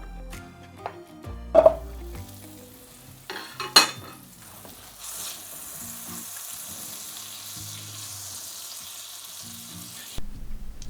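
Butter sizzles and fries in a pan for fried rice, with a soft continuous crackle under intermittent clanks and scrapes of a utensil stirring against the pan.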